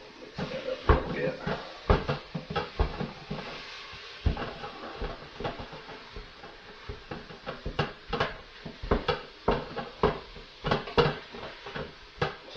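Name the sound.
ground meat being mixed in a pot for chili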